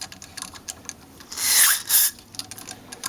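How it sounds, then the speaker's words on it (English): Spindle cutter rasping against a valve seat, cutting away carbon: a brief, quiet burst of scraping swells twice in the middle, with light scratchy ticks before and after. "use the spindle to cut into the seat area"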